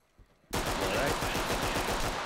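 Sudden loud, sustained gunfire in the tactical shooter Ready Or Not, a rapid stream of close shots starting after a brief quiet moment and continuing to the end.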